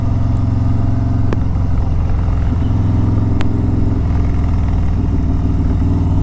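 A Harley Davidson Road Glide motorcycle rumbles steadily while riding, a continuous deep, throbbing engine drone with a couple of sharp clicks and no talk.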